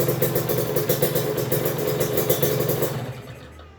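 A Kawasaki Ninja motorcycle engine running during an RPM test, a close, rapid rhythmic clatter that holds steady for about three seconds before cutting off.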